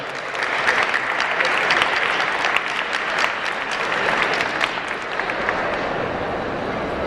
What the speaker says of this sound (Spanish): Lo recibimos ahí con un fuerte aplauso.